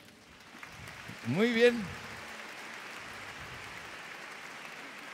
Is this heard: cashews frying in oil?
no